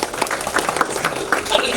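Audience applause from a lecture crowd of prospective judges, a short burst of scattered clapping with some voices mixed in.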